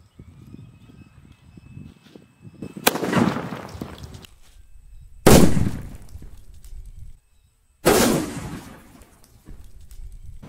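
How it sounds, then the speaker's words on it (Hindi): Sutli bomb firecrackers go off during Diwali testing, giving three loud, sharp blasts several seconds apart. Each bang is followed by a short crackling tail, with quieter rustling in between. "अब जलाते इस वाले सद्दाम के यहाँ पर सोतेली बम को।"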